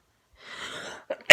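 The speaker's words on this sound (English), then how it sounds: "Excuse me, I just sneezed." A single soft, breathy sneeze close by, brief and muffled, followed by a short sharp catch of breath and a quick click at the end.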